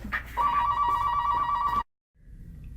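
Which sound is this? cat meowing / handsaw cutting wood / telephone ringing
telephone ringing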